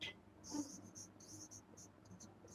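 A black pen writes on paper close by during a lesson, making quick scratchy strokes in several short bursts with brief pauses between them.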